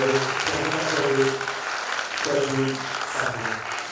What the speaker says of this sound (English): So the thunderous applause, let's welcome the Vice Chancellor